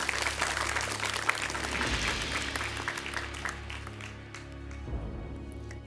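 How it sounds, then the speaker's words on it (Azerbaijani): Studio audience applause on a televised quiz show, steady dense clapping that carries on for several seconds and gradually thins out toward the end. "9 nəfəri biz ürəkdən alqışlayırıq."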